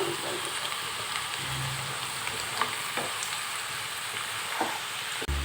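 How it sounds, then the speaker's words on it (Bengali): Oil crackles and sizzles steadily as vegetable stalks fry, with a few faint clinks and stirring sounds. "তেলের সাথে এবার এই ডাটাগুলো ভাজা ভাজা করে নেওয়া হবে"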